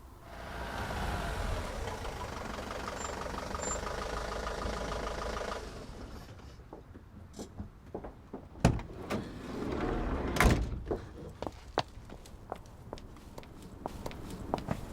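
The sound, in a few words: passenger assistant getting out of a vehicle and knocking on a door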